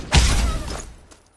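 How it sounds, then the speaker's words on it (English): Weapon reload in the mobile battle royale shooter Fire Squad: a sharp mechanical clack and rattle up front, then a decaying metallic shuffle with a faint click near the end, close and fairly loud. "Reloading."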